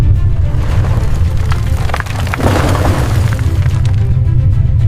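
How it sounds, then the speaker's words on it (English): A heavy, continuous rumble of earth sliding and caving in, with crumbling and cracking debris layered over a deep low roar. "The sound of the ground sliding and collapsing."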